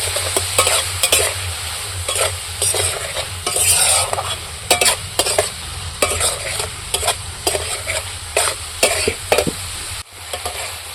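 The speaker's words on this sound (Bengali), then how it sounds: "এবার তেলের মধ্যে সব মশলাগুলোকে ভালো করে কষিয়ে নেব" Spices frying in oil for an egg and soybean curry, loud close sizzling with rapid repeated scraping and clinking of a spatula against the pan, no speech.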